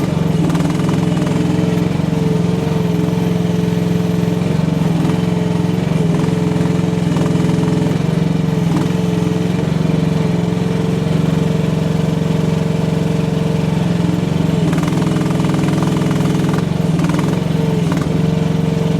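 Chinese H15R mini excavator with its small engine running steadily while digging, a loud, continuous close-up drone with slight load changes and hydraulic strain throughout, no voices.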